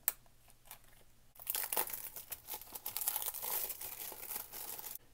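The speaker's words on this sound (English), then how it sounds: "Trusty X-Acto, make that incision." Blu-ray packaging for The Godfather Coda being cut open with an X-Acto knife; a faint tap, then crinkling and tearing of plastic wrap, close and fairly quiet, with no talking.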